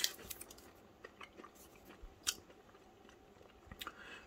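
Chewing a heart-shaped Japanese candy, soft crunchy bites and clicks close to the mouth, scattered irregularly and fairly faint.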